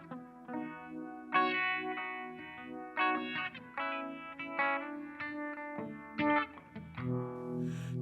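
Electric guitar run through a Sabbadius 1969 Uni-Vibe effect pedal, single notes and chords played one after another with a wobbling, swirling modulation and a gritty edge, moderately quiet with no voices.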